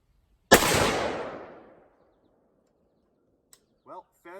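A single loud, sharp shot from a 458 SOCOM AR-15 rifle rings out close by and decays over about a second, followed by a small click and brief bird-like chirps; the second round fails to fire.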